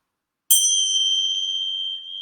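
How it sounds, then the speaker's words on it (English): A single bright bell struck once to open a yoga practice, a sharp clear ding that rings on with a steady sustained tone, close and alone. "the sound of the bell marks the beginning of our practice"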